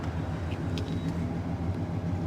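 A Mercedes SL600 with a 500 hp V12 idling roughly as it stalls, a steady low engine rumble with faint bursts of higher noise, close and continuous without any talk.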